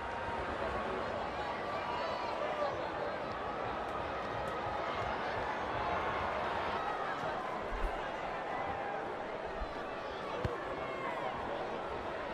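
Rugby league stadium crowd at an NRL Sea Eagles vs Dolphins match, reacting to a goal kicked from out wide: a steady, broad roar of many voices holds throughout with scattered thumps.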